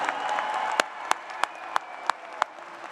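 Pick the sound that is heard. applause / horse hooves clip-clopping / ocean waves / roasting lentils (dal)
applause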